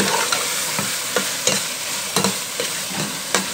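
Ground spinach stirred into chicken frying in a pan, a steady loud sizzle with regular scraping stirs of a spoon throughout, close and with no voices.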